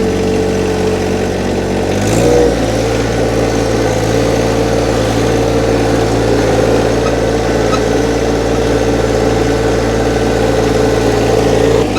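The diesel engine of a John Deere 1025r compact tractor runs loud and close, a steady low drone that shifts pitch slightly after two seconds and then holds an even throb, with no voices.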